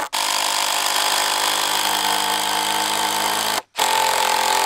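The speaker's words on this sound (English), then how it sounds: "I love my impact screwdriver." Impact screwdriver driving screws into timber framing, a loud, steady, close buzzing whir that runs almost continuously, broken once by a sudden short gap before resuming.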